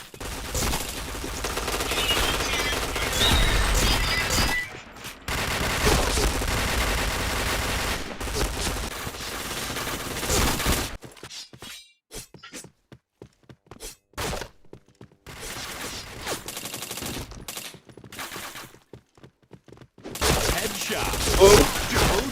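Rapid bursts of gunfire from a video game shooter, loud and dense for the first ten seconds, then thinning into scattered shots and short volleys with gaps, before a heavy burst returns at the end.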